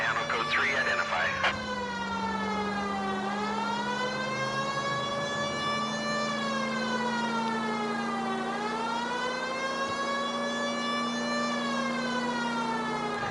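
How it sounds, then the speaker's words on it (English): A wailing police car siren in the L.A. Noire video game, loud and close, rising and falling in slow regular sweeps over a low engine drone, with a brief voice at the start. "Oh, why would you turn when I got my siren on?"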